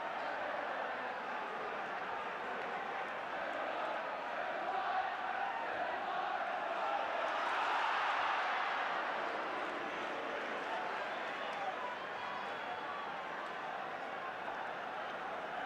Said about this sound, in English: The crowd were getting restless up to that point also, but they're happy enough now